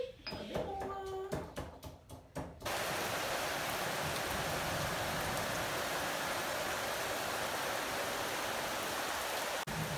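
Monsoon rain falling steadily in Pokhara, Nepal, a constant broadband hiss that fills most of the clip after a few brief clicks and knocks at the start.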